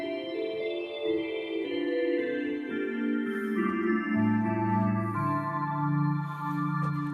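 Electric organ played live, the nazard flute stop (2⅔-foot) blended with 2-foot and 1-foot stops, giving a bright, sustained tune of layered held notes that moves steadily and fills the room without any talking.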